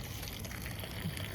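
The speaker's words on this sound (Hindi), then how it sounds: "हाँ कम पानी आ रहा है ना, जल्दी से नहीं दिलेगा, देर से दिलेगा पानी बेटे।" Water trickling slowly from a low-pressure hose or pipe while plants are watered, a steady soft running-water hiss that continues alone and evenly throughout.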